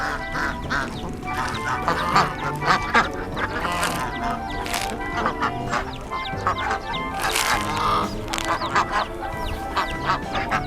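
Many ducks and ducklings quack busily and continuously, a dense overlapping chorus of calls close by.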